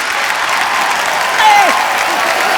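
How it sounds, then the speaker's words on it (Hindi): A studio audience at a televised Indian comedy show bursts into loud, sustained applause, a dense wash of clapping heard throughout with a brief voice over it. "यो बच्चा के लिए जोरदार तालियां"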